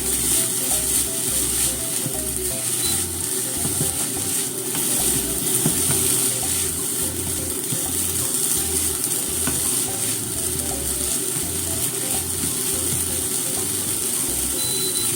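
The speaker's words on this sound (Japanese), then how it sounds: "軽く炒めます" Chili peppers being lightly stir-fried in a pan for chili miso, a steady close sizzle with rhythmic stirring and scraping running throughout, no voices.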